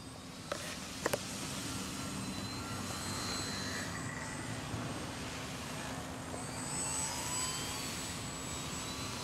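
RC model airplane, an FT flyer on its maiden flight, flying under motor power at about half throttle: a steady whining motor drone with gently swelling and fading level, moderately distant, no talk.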